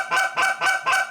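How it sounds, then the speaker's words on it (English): A goose call blown with two hands gives four quick, evenly spaced nasal honks, loud and close, with no talking. "A goose call is made to blow with two hands."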